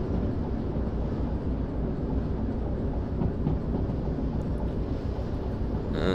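A heavy 300-ton freight train in the Derail Valley video game rolls steadily along rails, a dense continuous low rumble with wind-like noise, unchanging and loud throughout with no talk.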